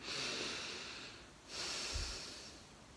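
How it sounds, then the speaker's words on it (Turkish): Slow breaths drawn in and let out through the nose during a face yoga exercise, two soft airy cycles, close and quiet with no talk. "Nefes alıp vermeye burundan devam ederek."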